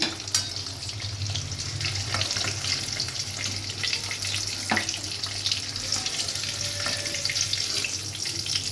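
Eggs fry in a pan with a continuous near sizzle, joined by a low steady hum and the sound of running water, with occasional clinks and no speech.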